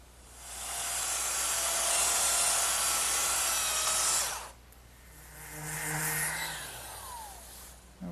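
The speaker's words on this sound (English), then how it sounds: "I'll just dress that up with my sander" A power sander dresses down a proud spot on a wooden dining table piece in a woodworking shop, a loud steady high whine for about four seconds, then stopping; a second tool hum follows, rising and falling more quietly.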